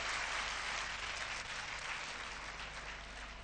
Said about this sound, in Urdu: میں اسٹوڈنٹ سے کہوں گا کہ زوردار تالیاں بجائیں